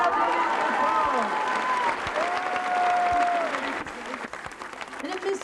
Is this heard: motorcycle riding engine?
no